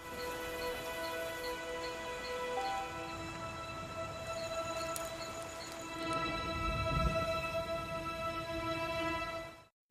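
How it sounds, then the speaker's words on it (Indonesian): Steady rain falls at night in the Amazon jungle, a continuous even patter throughout, with sustained high tonal insect-like calls running over it and a slightly heavier swell near the end. "hujan mulai turun"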